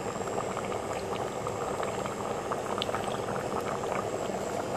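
Sambar with cooked dal stirred in bubbles at a steady boil, a dense continuous gurgle and pop of thick liquid heard close up and alone, without any voices.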